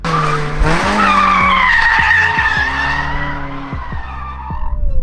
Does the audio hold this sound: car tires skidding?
yes